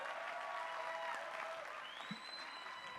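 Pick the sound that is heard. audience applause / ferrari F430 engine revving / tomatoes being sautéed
audience applause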